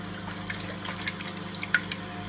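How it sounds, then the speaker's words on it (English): Warm water is poured onto sugar while making nettle beer, a soft continuous trickle with a few small drips and splashes, close and fairly quiet, with a low steady hum underneath. "I'm just going to put some warm water"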